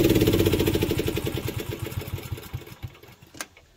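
A small engine on equipment with a choke and kill switch runs with a fast, rhythmic chugging pulse, fairly close, then sputters and slows as it dies away near the end.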